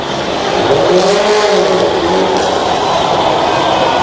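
Wrecked rallycross car at an X Games 2008 race, engine revving loudly and rising and falling in pitch as it races through a series of turns, with some tire noise and no talk.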